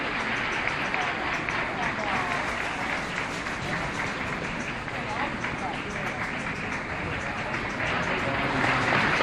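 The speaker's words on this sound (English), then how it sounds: "Applause not coming from reporters, but from supporters of the senator." Applause and cheering from a senator's supporters as he announces his 1968 presidential campaign. A dense, steady roar of clapping and crowd noise fills the whole stretch, loud and continuous, with voices mixed in.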